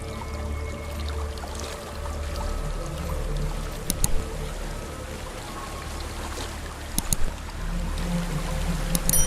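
Steady broadband rush of a waterfall in the video game Hellblade: Senua's Sacrifice, a constant pouring, churning wash heard alone throughout, with a few faint sharp ticks and splashes on top.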